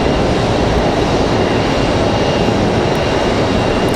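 United Airlines jet airliner departing Raleigh-Durham airport, a loud, steady wash of jet engine noise holding constant from start to finish, with no talk over it.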